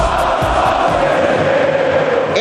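Cruzeiro supporters celebrating a 1-0 win over Brusque inside the Mineirão stadium, a loud, sustained roar of crowd cheering with chanting voices throughout.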